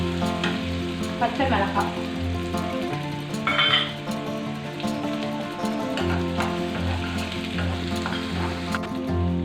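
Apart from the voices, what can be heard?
onions sautéing in oil with spluttered mustard seeds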